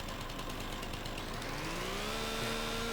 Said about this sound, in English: Chainsaw. Chainsaw. There we go.